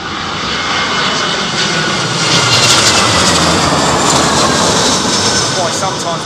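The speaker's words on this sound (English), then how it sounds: "Why sometimes we see very vigorous, very aggressive reverse thruster action" A loud, steady roar fills the air as an airliner lands in strong wind at Heathrow Airport, its engines and reverse thrust sustained and broadband throughout, swelling slightly midway.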